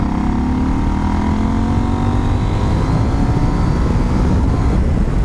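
A KTM 790 Adventure R motorcycle engine roars continuously at high revs, loud and close, with a steady buzzing drone and slowly rising pitch.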